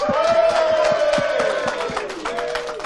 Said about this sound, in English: Let's have a round of applause for all the bands that you've seen today.